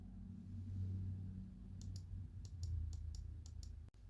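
Mouse clicks in a Windows desktop session as icon properties are opened: a quick series of about eight light, crisp clicks spaced evenly over a low steady hum, close by with no voices.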